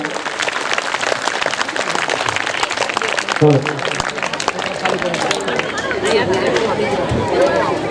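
Loud applause from an audience at a school annual function welcomes guests onto the stage, a steady dense clatter of clapping with crowd murmur and voices underneath throughout.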